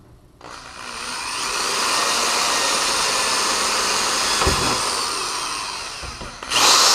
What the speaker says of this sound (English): Alright, let's put those screws in.